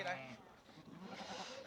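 On a Mongolian farm among many sheep, including black-headed ones, a quiet wavering bleat rises from the flock, alongside a voice talking.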